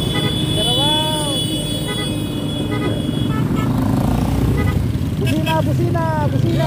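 Horns toot in short repeated bursts over a constant roar of engines and road traffic at a motorcade for a gas station grand opening in Umingan, Pangasinan, while voices talk nearby.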